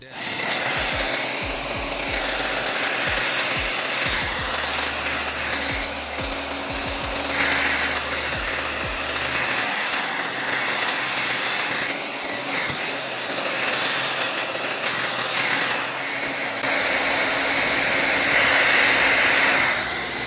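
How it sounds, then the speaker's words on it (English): A hair dryer blows with a steady, loud airy roar that runs for about twenty seconds, outdoors, with faint rubbing and handling noises mixed in. "we're gonna get this hair dryer"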